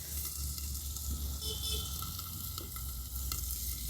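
Soaked potatoes and tomatoes sizzling in an uncovered pan while they are stirred, a steady close frying hiss with light scraping strokes throughout that stops abruptly at the end.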